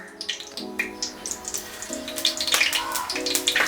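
Fennel seeds sizzling in hot groundnut oil in a village kitchen, a steady rain-like crackle with frequent small pops that grows busier and louder, over faint tonal background sound.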